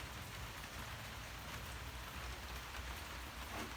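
Steady rain falls outdoors near a house with a bungalow roof under construction, a continuous dense patter of drops on surfaces with no voices and no pauses.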